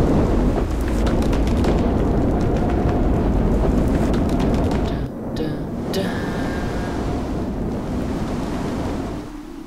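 Thunder rumbling in a tornado survival video game, a loud continuous roar with heavy wind and rain-like noise for several seconds, easing slightly partway through.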